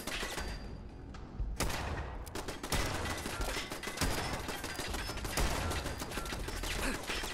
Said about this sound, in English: Well, I'll try shooting through this.